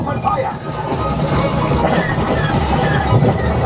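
Rumbling train noise with a steady clatter inside the Millennium Falcon: Smugglers Run ride at Disneyland, a loud continuous mechanical roar mixed with ride effects and voices.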